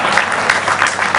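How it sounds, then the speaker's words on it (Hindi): Audience at a Hindi comic poetry gathering, a kavi sammelan, clapping in a short, loud burst of dense applause close by. "ये जाम वालों ने ही ताली बजाई है मुझे लग रहा है"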